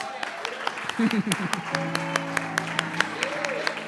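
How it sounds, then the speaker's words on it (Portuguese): A church congregation claps at a pastor's call during a sermon, with scattered sharp claps under ongoing speech and a sustained musical tone. "Você pode dar um aplauso, irmãos?"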